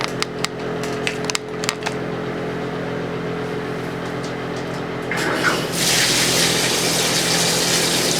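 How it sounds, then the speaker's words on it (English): Water running from a bathroom tap to fill a bathtub, preceded by a few knocks and clicks, then a steady hiss that turns into a loud, full gushing stream, close and with no talk. "And now it's time to fill up the bathtub."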